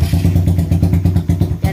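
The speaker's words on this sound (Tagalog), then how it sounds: "pinandar na niya motor niya." A motorcycle engine runs close by at idle, a loud, steady chugging pulse of evenly spaced thumps with a slight clatter.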